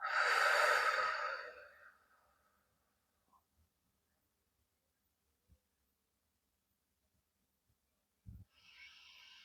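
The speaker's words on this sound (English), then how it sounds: "We're going to do 5 long, slow breaths." A long, slow exhaled breath in a calming guided breathing exercise, close and soft, fading out over about two seconds. Quiet follows, then another faint breath begins near the end.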